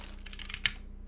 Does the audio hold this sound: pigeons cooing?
no